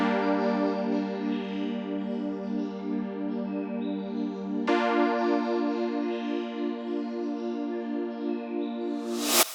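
Bird field recording run through Ableton Hybrid Reverb's convolution engine, producing a dense, sustained shimmering wash of stacked tones with a pulsing chorus-like texture, shifting halfway through and swelling to a bright burst at the end.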